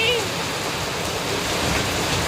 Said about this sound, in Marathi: फक्त काही सेकंडमध्ये एवढा जोरात पाऊस आलाय